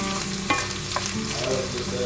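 Onion frying with bacon in a hot skillet sizzles in a steady hiss, with a few stirring scrapes and clacks, no talk.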